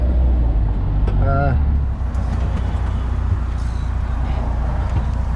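An Apex Reeper 4, a street-legal four-wheel-drive off-road utility vehicle, drives in a wide circle, its engine a steady low rumble throughout with a brief faint whine early on.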